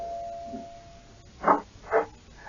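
A doorbell chimes twice in quick succession, two distinct ding-dong tones about half a second apart, fairly clear over a quiet room background in a radio drama setting.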